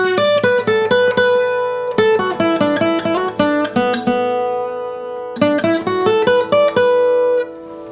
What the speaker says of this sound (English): just using the strings of the guitar ringing out sympathetically.